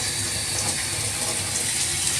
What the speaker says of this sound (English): I'm going to turn on the hot water because we want to use hot water.